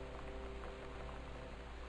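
Steady freezing rain in the video game Gone Home, a dense even patter of drops on surfaces with a low rumble underneath, continuous and moderately loud with no talk.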